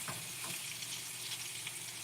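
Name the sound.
beef bacon frying in a pan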